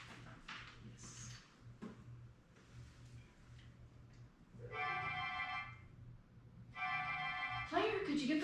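A telephone rings indoors in two clear bursts of electronic trilling near the end, after quieter ticks and shuffles, with a low hum underneath.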